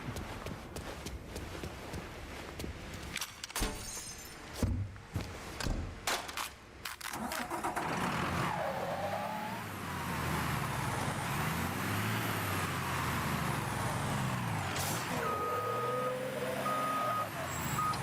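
A large truck in the video game Mafia III starts up and backs away, with a steady engine rumble, intermittent reversing beeps and some clattering game sounds over roughly eighteen seconds.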